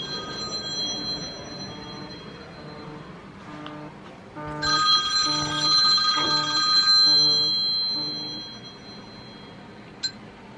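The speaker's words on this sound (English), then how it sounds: "Okay, phone call." A telephone ringtone plays indoors: a repeating electronic melody, quieter at first, then louder and clearer for a few seconds before fading, ending with a short click.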